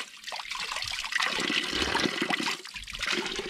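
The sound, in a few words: cold mountain water flowing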